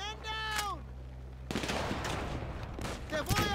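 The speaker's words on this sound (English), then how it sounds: "Grenade launcher!" A grenade launcher firing in GTA 5 amid a gunfight: a sudden loud blast followed by crackling gunfire and rumbling, with a voice shouting briefly before and after.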